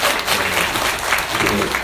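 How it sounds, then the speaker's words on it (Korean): Audience applause at a post-screening talk with the audience for a Korean documentary film, a dense steady clapping from a crowd lasting under two seconds, fairly loud and close. "오늘 수고 많으신 이성평 박사님과 남태호 배우님께 다시 한번 큰 박수 부탁드립니다"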